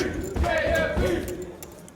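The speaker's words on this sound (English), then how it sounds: "As the crowd goes wild" Poker tournament crowd at a main event cheering and shouting wildly, a dense burst of excited voices that swells and then fades, heard close.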